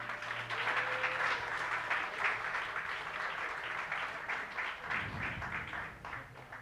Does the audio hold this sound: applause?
yes